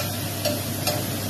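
Pork and bottle gourd sautéing in a pan, a steady low sizzle with a couple of soft scraping stirs, close and quiet with no talking.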